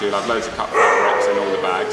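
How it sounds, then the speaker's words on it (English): A dog barks and yips in short bursts close by, under continuous conversation inside a custom sportswear workshop with cutting machinery and presses. "excuse the dog's barking"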